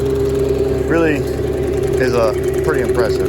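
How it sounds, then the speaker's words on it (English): The spinning drum of a forestry mulcher on a land-clearing job in Orlando, a machine with a hydraulic leak, makes a steady, loud mechanical hum as it winds down. Someone talks over it. "Love how long the drum spins for."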